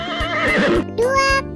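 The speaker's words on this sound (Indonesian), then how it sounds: "Lihat, ada kuda juga." A horse on a farm lets out a loud, close whinny lasting over a second, its pitch rising then falling with a shaky, trembling quality and no talk over it.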